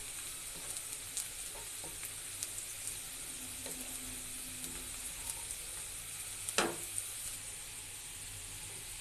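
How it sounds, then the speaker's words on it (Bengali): Onion frying in a pan gives a soft, continuous sizzle, with occasional light clicks and one sharper scrape of a spatula late on. "পেঁয়াজটা এভাবে আমি ভেজে নেব, লাল হওয়া অবধি আমি অপেক্ষা করব।"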